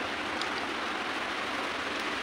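Rain falling outside a house gives a faint, even hiss of drops, steady and distant throughout with no voices.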